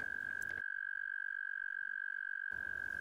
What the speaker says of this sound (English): They inflate their air sacs and produce a loud trill.